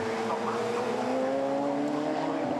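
Radical race cars on the Brands Hatch circuit approaching the Druids braking area, a loud close engine drone with steady harmonic tones held throughout, no pauses.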